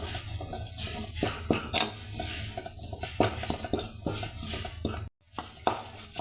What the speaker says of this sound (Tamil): இந்த கருவேப்பிலையை நம்ம நல்லா வறுத்து எடுத்துடலாம்.